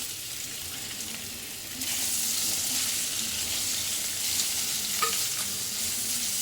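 Steady sizzling of potatoes sautéing in hot oil, growing louder partway through, with a brief clink of a utensil near the end.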